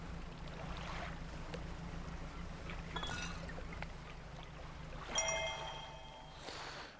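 A fishing boat glides across open water in the fishing game Dredge, with a steady low engine drone, lapping water and wind, and a few brief chimes and tonal game cues near the end. No one talks.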